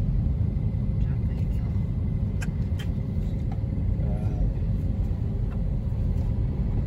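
A taxi rolls through late-night EDSA traffic near NAIA Terminal 1 in Manila, its cabin filled with a steady, close engine and road rumble and a few faint clicks and distant sounds.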